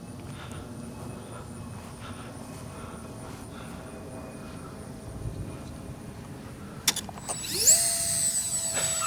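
A Skynetic Neptune RC jet plane flies at a distance as a faint, steady whine over outdoor background, growing louder and rising in pitch near the end as it comes closer.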